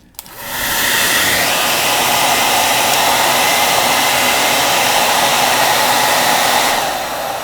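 A hair dryer on low heat blows steadily at a book sticker, switching on with a click and holding a loud, even whoosh of air for several seconds before winding down.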